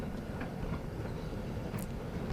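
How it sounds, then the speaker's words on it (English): A steam-hauled goods train of 17 wagons and carriages from Gothenburg pulls into a station on a 1950s Swedish railway, heard as a steady, continuous low rumble of rolling stock at moderate volume. "The long goods train from Gothenburg arrived at St. Olaf on time."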